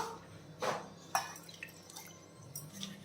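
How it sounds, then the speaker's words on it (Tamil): Half a cup of water goes into a ragi flour and moong dal mixture with curry leaves and cumin, heard as two short, close splashes followed by faint drips in a quiet kitchen. "அரை கப் தண்ணியை சேர்த்துடலாம்."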